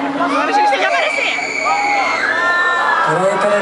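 A concert crowd at a show in Casimiro de Abreu shouts and cheers loudly and without pause, a dense wall of voices with whoops and high shrieks rising above it.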